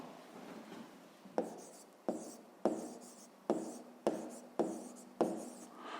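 Pen strokes on paper during a fifth-grade maths lesson, a run of about seven short scratchy writing strokes in a steady rhythm, close and fairly quiet, with no talking.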